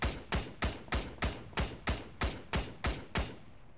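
Weapons in ARMA 3 firing a steady run of about eleven sharp, evenly spaced shots, each cracking loudly and close with a short echo tail.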